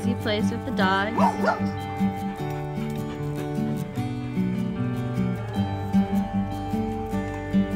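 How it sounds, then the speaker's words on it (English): Dogs bark and yip excitedly in quick bursts, with whimpers and high yelps mixed in, close by, alongside playful sounds. "This is how Yazhi plays with the dogs."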